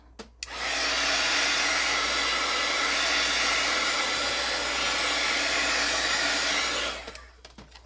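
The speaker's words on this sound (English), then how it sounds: "I'm going to give this a quick shot with the heat tool" Heat tool drying stamping ink on a crafting project: a loud, steady blowing roar with a whining hiss that switches on after a moment, holds for about six seconds, then cuts off.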